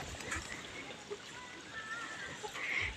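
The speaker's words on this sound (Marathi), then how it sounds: "आवाज येत असेल तुम्हाला" Water rushing through a farm irrigation pipe that feeds drip lines: a faint, steady hiss and gurgle with no pauses.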